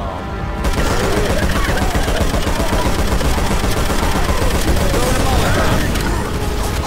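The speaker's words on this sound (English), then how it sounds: "Shoot the shit out of that thing!" Sustained, dense automatic gunfire in the shooter game Left 4 Dead 2, loud and continuous for several seconds without a break.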